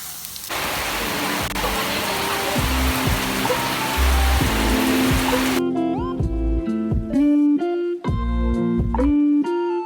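Steady rain hisses loudly for several seconds over a low hum and some bright tones, then gives way to electronic beeping tones.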